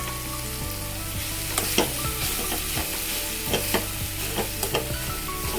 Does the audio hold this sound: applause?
no